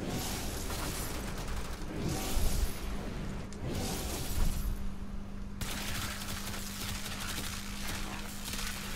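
In the Warframe shooter, an Amprex beam rifle fires in sustained, crackling electric bursts. The bursts come in loud, rapid chattering stretches with short gaps between them and a steady low hum underneath.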